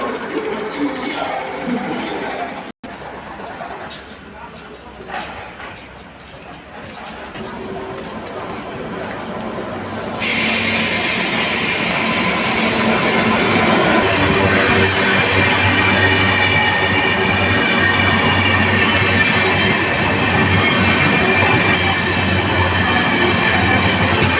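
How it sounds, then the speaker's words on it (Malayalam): The Kanyakumari Island Express rumbles steadily into platform 2 at Aluva railway station, its loud continuous roar and hiss building midway, with some background voices on the platform. "Kanyakumari island express platform number ടുവിലേക്ക് കടന്നുകൊണ്ടിരിക്കുകയാണ്"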